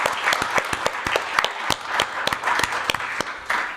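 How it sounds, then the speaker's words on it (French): Audience clapping for translators at the opening of a French-language event day, a loose patter of individual claps with distinct sharp hits, fairly close and uneven, with no speech. "Donc on va les applaudir"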